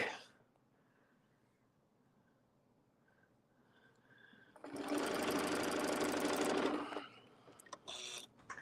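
A sewing machine stitches a background fill with a steady, loud, fast whir lasting about two seconds, then briefer bursts, set against a quiet room.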